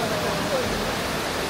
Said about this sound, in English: So waterfalls, also called as human waterfalls.